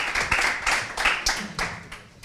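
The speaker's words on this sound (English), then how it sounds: "round of applause for Surajan as well, by the way" A meetup audience gives a round of applause for a presenter at a product management talk, with steady overlapping claps close by that taper off toward the end.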